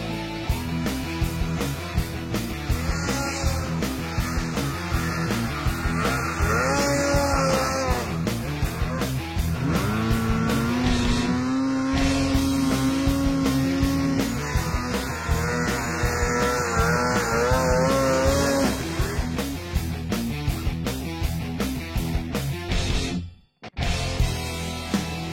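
A Polaris SKS 800 snowmobile on a 146-inch track runs hard, its engine note climbing and falling steadily through revs, loud and close, with a brief cut near the end.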